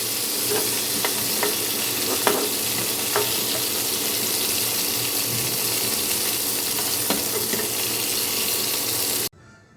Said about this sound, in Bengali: ফুলকপিগুলোকেও কিন্তু বেশ আমি লাল লাল করে ভেজে নিয়েছি